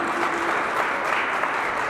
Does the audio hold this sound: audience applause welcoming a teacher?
yes